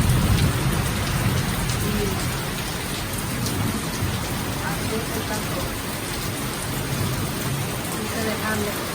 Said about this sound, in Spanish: A mí me encanta ver la lluvia caer